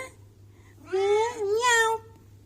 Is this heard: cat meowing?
yes